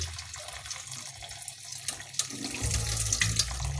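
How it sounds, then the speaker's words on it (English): Tap water runs into a sink while quinoa is rinsed under it. The flow is steady, then grows fuller and heavier partway through, with splashing and dripping close by. "Then just let the water flow."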